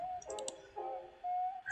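Mouse clicks land while playing Bomber Crew, a few soft, close taps over a steady game tone, with no talking.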